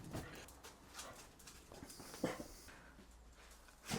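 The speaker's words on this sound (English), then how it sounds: "And it looks like the workshop dogs have come to say hello." Workshop dogs in a shed, giving soft whimpers with light scuffling and movement, fairly faint, with no talking over them.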